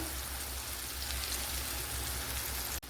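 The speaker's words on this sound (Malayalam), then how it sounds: "ഇനി ഇതിലേക്ക് നമ്മൾ അരച്ച് വെച്ചിരിക്കുന്ന അരപ്പ് ചേർത്ത് കൊടുക്കാം" Ground spice paste going into a hot pan of softened tomatoes for a duck egg stew, crackling up in a dense, rain-like sizzle that stays steady and close for a few seconds before a brief dip at the end.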